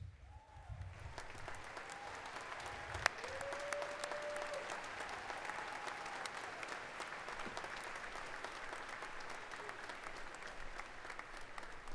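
Faint, distant applause from the graduating crowd at a Kutztown University spring undergraduate commencement, a soft continuous wash of clapping sustained at an even level for the whole stretch.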